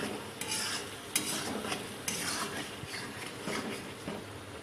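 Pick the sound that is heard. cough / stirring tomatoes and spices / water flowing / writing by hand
stirring tomatoes and spices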